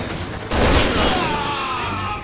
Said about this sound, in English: Did the soldiers actually start shooting for once?